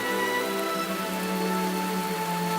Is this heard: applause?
no